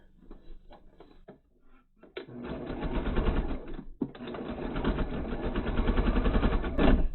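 A sewing machine runs in steady bursts while stitching the outside edges of a scrappy pumpkin-block quilted placemat, starting with short stop-start runs and then a long, continuous close whirring stitch with brief pauses.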